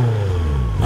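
An Infiniti Q60 Red Sport coupe engine revs in a brief, close, loud burst with a low, rumbling tone.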